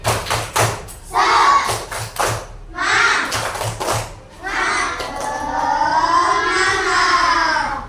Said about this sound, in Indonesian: Coba ibu pengen tahu, tepuk semangat. Kita bareng-bareng ya. Tepuk semangat